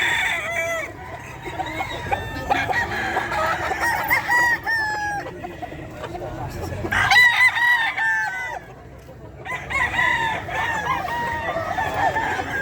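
A lemon sweater gamefowl rooster crows at a pet market, several loud close crows and clucks from other fowl mixed together over busy market background noise.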